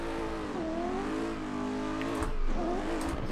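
A race car launches in second gear with the clutch slipped, its engine droning steadily and then rising in pitch as it pulls away, close and loud with no talk over it.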